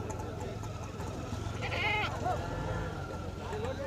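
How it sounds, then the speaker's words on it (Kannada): Goat kids and sheep at the weekly sheep and goat market in Chintamani: one clear bleat rises mid-clip over a steady murmur of crowd noise and nearby voices talking. "ನೋಡಿ ಮೇಕೆ ಮರಿಗಳು ಇದ್ದಾವೆ, ಕುರಿಗಳಿದ್ದಾವೆ"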